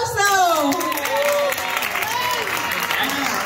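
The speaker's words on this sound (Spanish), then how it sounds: "¡Un aplauso!" An audience claps and cheers at a communion celebration, with the applause steady and fairly loud under a voice that keeps talking over it.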